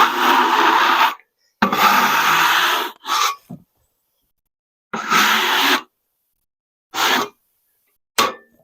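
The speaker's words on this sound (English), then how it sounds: "Scrape the sawdust off here real quick." Sawdust scraped off a slab of ambrosia maple on a portable sawmill: loud, close, raspy scraping strokes in several bursts of a second or so, separated by silences.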